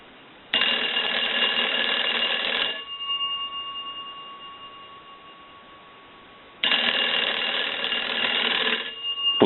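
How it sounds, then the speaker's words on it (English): An old-style wooden wall crank telephone bell rings in two long bursts with a quiet pause between, loud and close, with a faint hum lingering in the gap. "we can ring the telephone with the analyzer"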